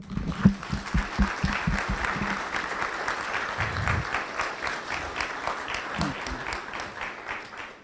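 An audience applauds newly sworn-in CASA guardian ad litem volunteers, opening with sharp distinct claps that merge into steady sustained applause for several seconds.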